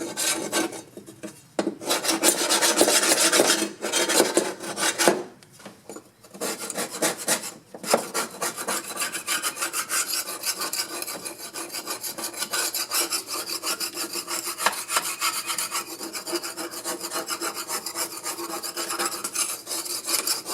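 Grass is scraped off a lawn mower deck and blade in repeated rasping, rubbing strokes that go on steadily at close range, with a few brief pauses between bursts.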